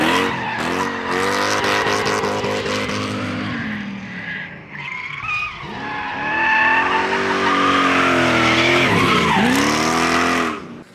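A V8-swapped Mazda Miata drifts on a mountain road with loud, sustained tire squeal and a revving engine, the pitch rising and falling as the car slides through corners close by, with no talk over it.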